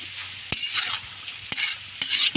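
Pansit noodles are stirred and fried in a hot pan, with three sharp scraping clatters of the utensil against the pan over a steady sizzle. The sound is close and loud, with no talking.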